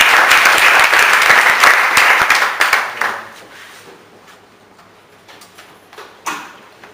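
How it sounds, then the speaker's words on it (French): Meetup audience at an AfrikaTech event on funding research gives a burst of clapping that holds for about three seconds, then thins to a few scattered, fading claps. "On peut l'applaudir."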